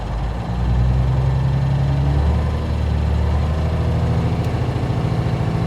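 Kenworth truck engine held at elevated revs, a steady, loud, continuous low drone with a faint rise and fall in pitch throughout.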